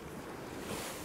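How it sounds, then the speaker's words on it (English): Steady rush of sea swells and waves mixed with wind noise on a sailboat passing through an exposed channel in the Norwegian archipelago, a continuous close wash with no talking. "we're getting some swells and waves and more wind"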